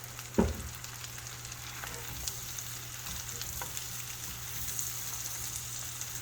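Sliced yellow squash frying in butter in a pan while being stirred: a quiet, steady, rain-like sizzle with occasional faint scrapes and one brief clunk near the start, heard close up with no talking.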